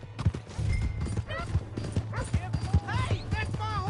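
Horse hooves clip-clopping at a quick pace in the Western video game Red Dead Redemption 2, a steady rhythmic beat running under game music and people talking, with a brief whinny.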